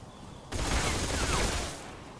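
Enemy gunfire in the Metal Gear Solid Delta video game, a sudden dense burst of rapid shots that starts abruptly, holds loud for over a second, then cuts back to quiet background.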